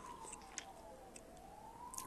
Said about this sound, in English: there's a fucking siren going on outside my window